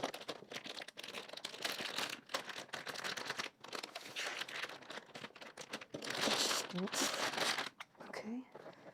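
Packaging for a Huion Kamvas Pro 20 pen display is opened, with intermittent crinkling and rustling of plastic and cardboard close by, under a person speaking.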